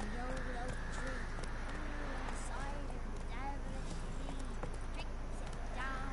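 Horse riding in The Witcher 3, with a rapid, continuous patter of hoofbeats under a droning game soundscape, while a voice talks over the riding throughout.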